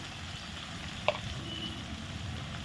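Tomato paste masala fries in a pan with turmeric, giving a steady soft sizzle with one brief sharp clink of a utensil against the pan partway through.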